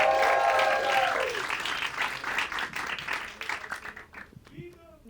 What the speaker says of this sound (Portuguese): Receba com muito carinho, com muitos aplausos